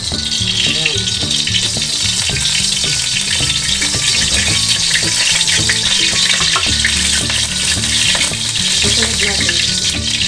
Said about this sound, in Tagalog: Narito po ang cooking oil. Painitin muna natin.